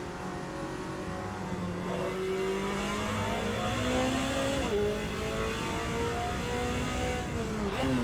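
GT race cars run on the Road America circuit in the Automobilista 2 racing game, with a continuous close engine drone whose pitch climbs steadily and dips briefly at gear changes throughout.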